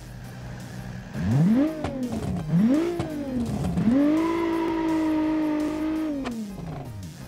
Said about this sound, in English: this is a wild sounding inline 6